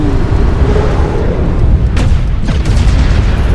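Airstrike explosions thunder in the MechWarrior Online battle, with dense, continuous rumbling booms and blasts filling the scene at a loud, steady level.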